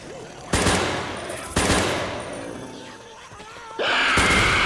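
Bursts of gunfire in the video game Left 4 Dead 2 come in loud, close volleys, with rattling automatic fire separated by short pauses and a groan between them.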